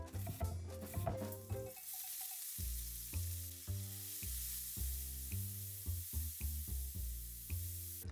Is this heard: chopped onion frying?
yes